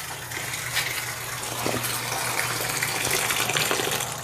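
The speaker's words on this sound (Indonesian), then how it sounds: "Tak rendam lagi pakai air mengalir" Tap water runs steadily into a basin where pandan leaves soak, a continuous close gushing stream with no talk over it.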